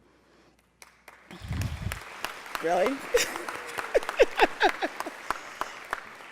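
Scattered audience clapping at a foundation's education and family event. It starts sparse, builds into a cluster of claps, and is mixed with voices and reactions from the crowd.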